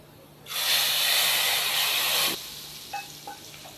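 A loud burst of sizzling hiss erupts as hot oil tempering is poured over cooked lentils, holding for about two seconds before cutting off, followed by a few light clinks.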